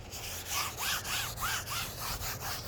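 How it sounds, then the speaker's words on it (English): A cloth wipes across an oil painting surface in repeated back-and-forth strokes, each rubbing pass close and even in a steady rhythm. "So I'm just gonna wipe this down. Not scrubbing terribly hard."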